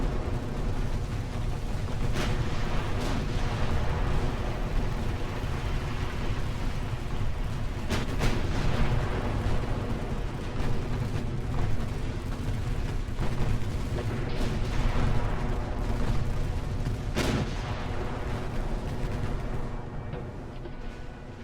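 Naval gunfire from warships in Ultimate Admiral: Dreadnoughts, a steady dense roar of cannon fire with sharp booming shots standing out, loud and continuous throughout with no talking.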